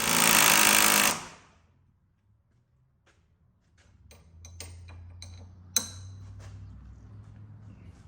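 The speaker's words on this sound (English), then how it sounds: "Now we'll tighten up our bolt on our lower strut here." An impact wrench tightens the lower strut bolt on a 2003 Infiniti G35, a loud dense burst of rapid hammering for about a second, then quiet with faint clicks and low workshop rumble.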